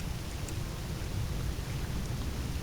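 Steady, dense thunderstorm rain in the video game Voices of the Void, with a constant hiss of rainfall over a low rumbling bed, heard alone at even loudness.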